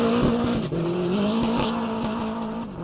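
Renault Clio with a carbon fiber body and a K24 turbo engine driven hard, a loud continuous engine roar close up with rising and falling revs and tire squeal, no talking.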